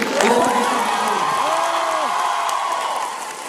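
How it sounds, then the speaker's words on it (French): Cinema audience at a Mega CGR film premiere in Bordeaux applauding and cheering, steady crowd clapping with a whoop or two, while a voice speaks faintly over it before the noise thins toward the end. "mesdames et messieurs, essayez d'applaudir quand même s'il vous plaît."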